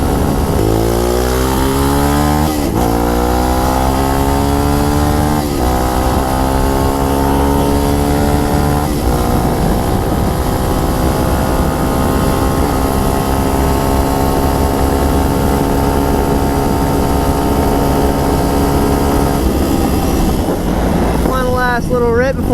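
A 2021 Tao Motor TBR7 250 motorcycle accelerates on a ride. The engine drone climbs steadily in pitch through several gear changes, heard close under constant loud wind rush.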